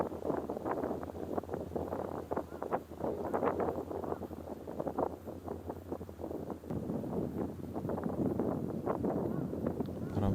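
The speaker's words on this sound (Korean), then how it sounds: "바람 소리 어마어마하죠." Strong wind buffets the microphone at an outdoor fishing spot, gusty rumbling and rustling for the whole stretch, fairly faint overall.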